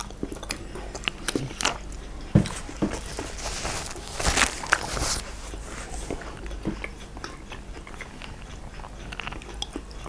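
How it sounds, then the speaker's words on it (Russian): Biting and chewing homemade pizza close to the mic, with scattered crunchy bites and soft mouth sounds over a steady low background, no talk. "Сейчас попробуем пиццу мою."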